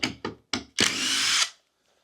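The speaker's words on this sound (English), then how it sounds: "Next thing I gotta do, unscrew, unscrew, unscrew," A power drill unscrews screws from a king bed frame, giving three short, close whirring bursts followed by one longer steady whine that stops abruptly.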